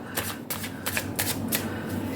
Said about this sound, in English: So I'm going to do all the shuffling right now.